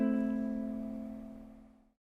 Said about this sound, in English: It sounds like this.